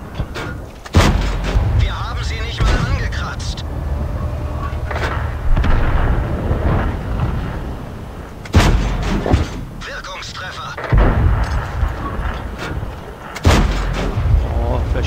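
Heavy gunfire and booming cannon-like shots from a video game, several loud blasts in irregular bursts with sustained rumbling and crackle between them, no talking.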